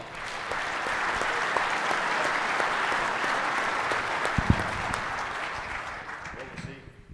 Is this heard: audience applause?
yes